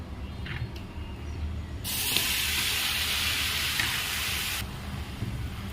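Snake gourd with poppy seeds cooking in a pan gives a sudden loud sizzling hiss that holds for about three seconds and then drops back to a quieter background, with no talking.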